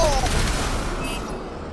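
Heavy cannon broadside from a ship in a video game, a dense burst of booming gunfire that fades out over under two seconds, loud and close with no talk over it.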